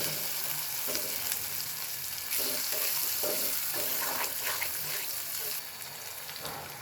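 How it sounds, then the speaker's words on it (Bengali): Cubed potatoes fry with spices and salt in a pan for a pea bhuna dish, a steady crackling sizzle punctuated by stirring scrapes, close and fairly loud, easing slightly near the end. "আলু একটু ভেজে নেব মশলার সাথে"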